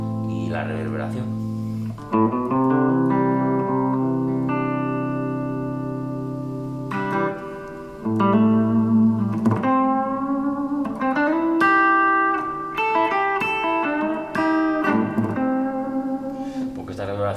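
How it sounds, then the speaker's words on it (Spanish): Spring tank reverb on a Harley Benton Tube 15 valve guitar amp head, with clean strummed chords ringing out and lingering in a splashy reverberant tail, loud and close. "Porque esta reverberación es de tanque, de muelles, viene aquí atrás"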